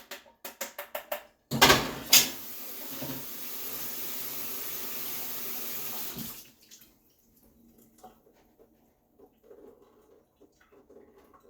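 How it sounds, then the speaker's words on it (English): Vegetables are rinsed under a running kitchen tap: a few clicks and a splash, then about five seconds of steady gushing water, followed by quieter handling noises. "just gonna rinse these off"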